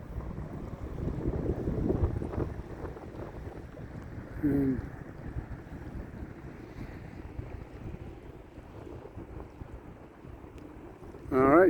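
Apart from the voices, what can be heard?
Pacific ocean waves at Alsea River mouth, Waldport, Oregon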